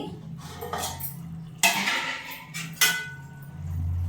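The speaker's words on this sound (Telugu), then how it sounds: "ఇవన్నీ మూత పెట్టుకుందాం" A lid is set down on a pot of drumstick and tomato gravy curry, giving two distinct metallic clanks about a second apart over a quiet kitchen background.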